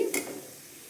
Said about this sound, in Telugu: ఉల్లిపాయ ముక్కలు ఎర్రగా అయితే వేగిపోయింది కదా